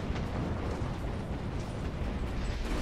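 Anti-tank guided missile striking a tank in War Thunder: a loud, dense roaring rumble of blast noise that fills the whole moment without letting up.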